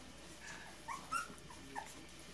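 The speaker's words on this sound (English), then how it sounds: "Look at puppy" A puppy whimpers softly, giving three short, high, thin whines spaced about a second apart, faint and close, with no talk.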